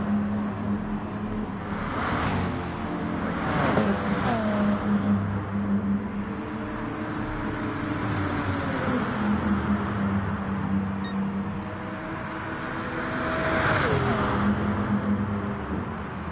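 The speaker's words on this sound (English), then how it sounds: "Trouse still able to pull away through that middle sector with the superior acceleration of the Porsche" A Porsche race car in the GT Sport video game at Blue Moon Bay engine rising and falling through gear changes as it accelerates, a continuous loud engine drone with other cars' engines blending in, no talk.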